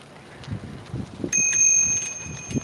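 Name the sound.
bicycle bell ringing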